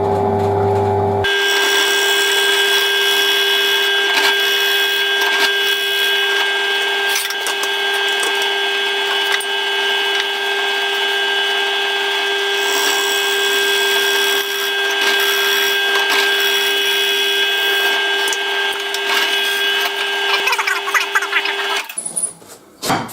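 Loud, continuous power cutting through pine wood with a steady droning whine that holds for about twenty seconds, then winds down and stops.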